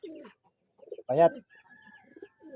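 A pigeon, thin and underweight, gives soft, low coos in short bursts close by, with someone speaking briefly over it in a quiet setting.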